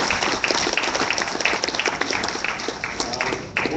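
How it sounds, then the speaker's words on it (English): Applause from a crowd at a county party chair candidate forum: steady clapping for a few seconds, fairly loud and continuous, with a faint voice underneath. "But with that, Ron, a big round of applause for Ron."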